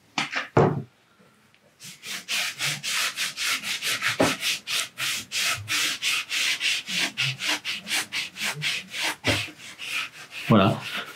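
Painted wood being rubbed down by hand to give a worn, antique finish, heard as a close, rapid, rhythmic series of rasping sanding strokes that follows a few brief knocks.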